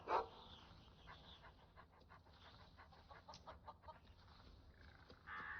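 Dog in the game Skyrim Nolvus pants softly and rhythmically, faint and close, over a low background hum, with a few brief louder noises at the start and end.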